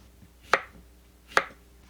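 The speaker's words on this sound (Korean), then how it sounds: "자른 오이를 다시 4등분하여 손가락 정도 두께로 잘라요" A knife cuts cucumber into finger-thick pieces on a board. Two crisp, close chops land about a second apart, with quiet gaps between and no talking.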